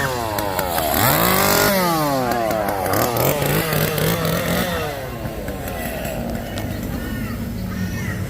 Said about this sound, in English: That is a chainsaw character.